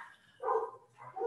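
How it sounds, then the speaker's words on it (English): Pet dogs barking in a room during a remote lecture, two short bursts of barks, moderately loud and close, with a pause between them. "as my dogs go wild"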